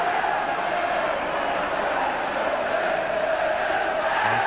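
A packed crowd at an Everton v Liverpool FA Cup replay roars and chants as one sustained, distant wall of voices filling a football ground.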